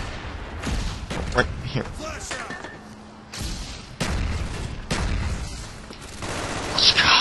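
Gunfire in a Call of Duty: Black Ops match, with several sharp shots and heavier booms scattered over a few seconds. The shots are close and loud, and someone speaks briefly among them.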